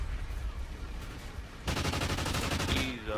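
Rapid bursts of gunfire crackle continuously in a competitive scrim match of a first-person shooter, growing denser and louder halfway through, with overlapping weapons and faint game noise throughout.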